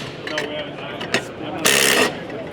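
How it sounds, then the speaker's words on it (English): Makita cordless ratchet tightening a nut with auto stop engaged, a motor whir with mechanical clicking and a louder buzzing burst before it halts, heard close over background trade-show noise. "So this one's, I'm going to tighten it up. Now, I got auto stop engaged."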